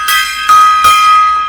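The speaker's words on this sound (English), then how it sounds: "all right, gong time." A gong struck three times in quick succession during a live talk show, each hit loud with a bright shimmering ring that hangs on and slowly fades.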